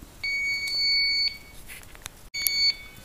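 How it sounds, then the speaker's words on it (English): A handheld refrigerant leak detector beeps near a Viking Professional wine cooler being checked for a freon leak, giving two sustained high electronic tones separated by a short pause, close and alone. "we're going to take our leak detector, which is right here, and see if we can pick something up."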